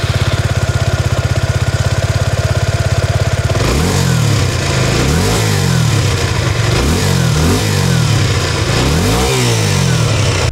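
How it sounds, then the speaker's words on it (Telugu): A Suzuki V-Strom SX250 250cc motorcycle with a dual-barrel exhaust idles steadily at close range, then is revved hard several times in a row, each rise and fall of the engine note loud and clear, with no talking. "ఈ బైక్ ఎగ్జాస్ట్ నోట్ ఎలా ఉందో ఒకసారి చూద్దాం."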